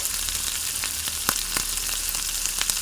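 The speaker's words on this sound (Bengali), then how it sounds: "পেঁয়াজটাকে আমি এখন হালকা করে ভেজে নেব" Mustard oil sizzles and crackles steadily as chopped onions fry, with occasional louder pops and faint stirring, no voices present.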